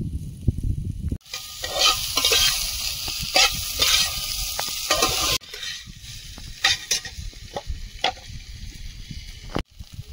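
Chopped onions sizzle loudly in a pan as they are stirred, with repeated close scraping and clattering strokes and a couple of abrupt breaks in the frying noise.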